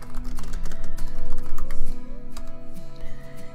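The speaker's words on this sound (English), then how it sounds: "I can type and build the information here" Steady clicking of fingers typing on a computer keyboard, close and continuous, with a tonal background hum running underneath.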